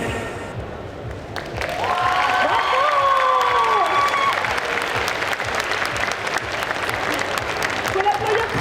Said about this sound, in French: Faut l'applaudir très fort